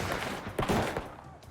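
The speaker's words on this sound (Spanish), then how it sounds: "Mientras continuaban los disparos" Gunfire during a shootout between Johnson County sheriff's officers and kidnapping suspects: a couple of sharp, close bursts of shots within a second and a half, over a dense, noisy background.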